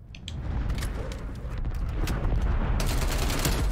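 An airstrike in the video game Call of Duty Black Ops Cold War, a dense continuous rumble of rapid blasts and crackling impacts, loud and sustained, swelling stronger toward the end.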